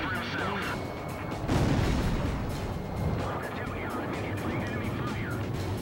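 Enemy gunfire and explosions in the combat flight game Ace Combat Zero: The Belkan War, a dense, continuous roar of shooting with a louder burst near the middle, under radio chatter and engine noise.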